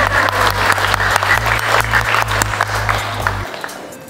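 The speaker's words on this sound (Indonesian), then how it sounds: "Tepuk tangan dong." An audience at a nutritionists' professional oath ceremony and public lecture in East Java applauds, a dense burst of clapping over a low sustained tone that stops abruptly, leaving a short fading tail.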